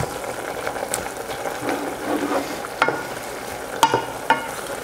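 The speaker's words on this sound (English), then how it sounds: "And we stir." Potato chips are stirred into liquid in a pot to make mashed potatoes. A spoon scrapes and swishes unevenly, with a few sharp knocks and clacks against the pot and a soft bubbling underneath. No one speaks.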